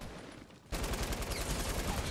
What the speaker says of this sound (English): Make sure you use your light machine gun.